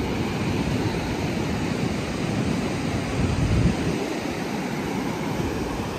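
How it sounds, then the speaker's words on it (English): Ocean waves surge and break on the shore during a seaside outing in Los Angeles, a steady broadband roar with a swelling rush around the middle, mixed with wind buffeting the microphone, no talk. "The waves about to grab them."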